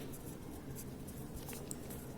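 A pen scratches softly across paper as a Class 10 maths solution is written out, a faint continuous scratching with small strokes close by in a quiet room.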